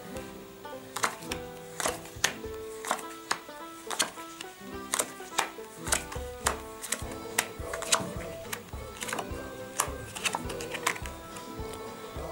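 Playing cards are dealt onto a table in a steady rhythm of crisp, close slaps and ticks, one after another, over soft background music.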